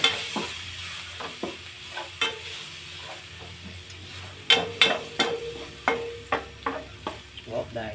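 Garlic fries in a pan, a constant sizzle broken by sharp repeated scrapes and clacks as it is stirred, close and clear with no talking.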